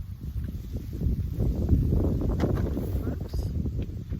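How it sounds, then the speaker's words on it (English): Outdoor wind gusting against the microphone, a loud low rumbling buffet that swells and stays steady for a few seconds, with no one speaking over it. "the wind's blowing my stuff away"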